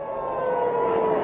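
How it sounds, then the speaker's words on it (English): A civil defense air raid siren wails across an Israeli city, one steady sustained tone sounding loud and unbroken. "Air raid sirens were activated in cities across Israel"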